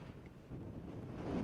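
Strong winds of Cyclone Hudhud on the Odisha coast make a steady low rumble and buffet against the microphone, growing slightly louder toward the end, with no voices.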